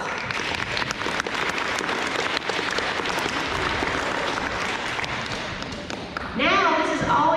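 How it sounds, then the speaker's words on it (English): At an elementary school awards ceremony, a crowd of students and families gives a sustained round of clapping, busy and uneven with occasional sharper claps; it fades near the end as someone starts talking. "Another round of applause."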